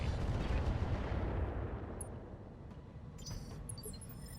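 A mortar mech fires artillery in the Roguetech battle game: a loud booming blast rolls into a long, fading rumble, then a softer second burst follows near the end, with no voices.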